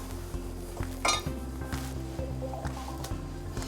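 Glutinous rice balls drop into a pot of thick red bean porridge, with soft wet plops and light spoon clinks against the pot over a steady low simmer, close and quiet with no talk.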